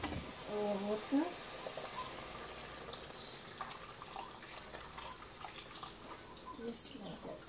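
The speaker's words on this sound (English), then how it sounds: "Now we add in our water." Running water pours and splashes briefly into a cooking pot at the start, then continues as a steady trickle with faint clinks and background voices.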